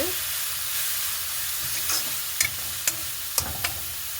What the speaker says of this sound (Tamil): இனி நாங்கள் ஸ்க்ரேப் பண்ணி வச்சுருக்கிற கேரட்டை சேர்க்க போகிறோம். சேர்த்துருக்கா வடிவாக கிளறிட்டு